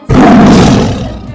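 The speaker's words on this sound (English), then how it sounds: "tiger," A tiger lets out one loud, close roar that starts abruptly and holds for over a second before slowly fading, with no talk over it.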